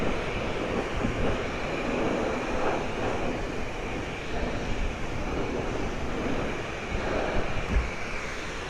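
A steady hose spray rinses soap off a Kawasaki Ninja 400 motorcycle, a continuous broadband hiss and splatter at even loudness throughout with no talking.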